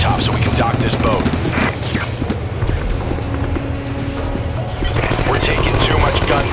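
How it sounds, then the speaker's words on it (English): Gunfire during a rooftop shootout in the video game TimeShift, near a docking boat with enemy turrets on neighbouring rooftops; dense bursts of shots and booms roll on continuously under engine rumble and a voice talking. "We're taking too much gunfire."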